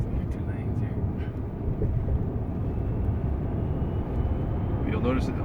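A steady, loud low rumble and whoosh of a Tesla P90D electric car accelerating, resembling an airplane taking off, with a faint whine rising near the end.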